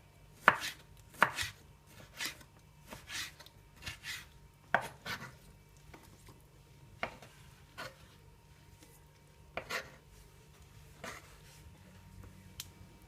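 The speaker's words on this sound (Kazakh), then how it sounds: "Неге барлығын осылай жіңішке етіп" A knife chops ingredients thinly for maqluba on a board, giving a series of sharp, close cuts in loose bursts and pauses over a quiet background, with no talking.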